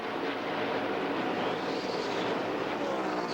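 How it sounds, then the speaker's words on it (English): A NASCAR Cup race car, the 97 car, drones with a dense, steady roar late in a 2003 race at Michigan, a continuous full-throttle wash of engine and track noise with no break. "That engine is still running, that 97 car"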